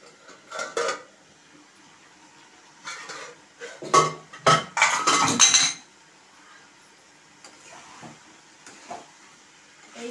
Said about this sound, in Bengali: এই যে এখন আমি ঢাকনা দিয়ে ঢেকে দেব।